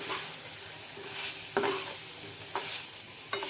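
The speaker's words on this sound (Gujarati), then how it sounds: "હવે એમાં આપણે પાસ્તાને નાખી દઈશું અને સારી રીતે મિક્સ કરી દઈશું" Pasta and cooked vegetables in a pan stir under a continuous sizzle, with a few sharp scrapes or taps of the spoon against the metal.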